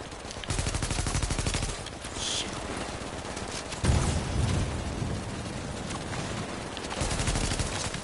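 An enemy unleashes sustained gunfire in The Division, long rattling automatic bursts close by, with a heavier impact midway, and almost no pause between volleys.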